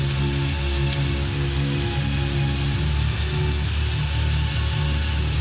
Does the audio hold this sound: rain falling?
yes